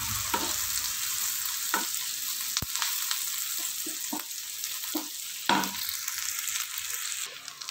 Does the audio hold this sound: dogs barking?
no